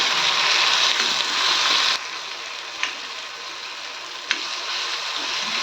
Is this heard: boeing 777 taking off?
no